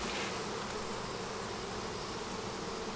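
Honeybees buzz from a neglected, opened beehive during an inspection, a close, steady, dense hum with no pauses.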